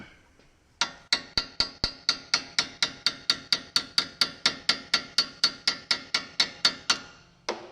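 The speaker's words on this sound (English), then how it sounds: "Take a chisel. And drive them out." Repeated steady hammer blows on a chisel drive pistons or parts out of a frozen Toyota Corolla brake caliper, about twenty-five sharp metallic strikes in an even rhythm, close and loud with no talk.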